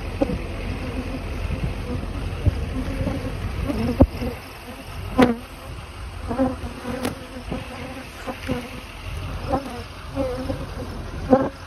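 A swarm of bees buzzes continuously and close, a dense droning hum with occasional louder passes and faint clicks throughout.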